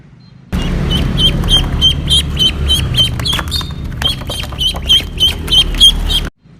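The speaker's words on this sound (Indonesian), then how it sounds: "Ada bebek. Wek, wek." A rapid, steady run of duck quacks, loud and close, repeating for several seconds without pause.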